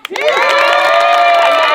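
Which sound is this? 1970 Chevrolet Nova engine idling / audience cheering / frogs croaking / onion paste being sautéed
audience cheering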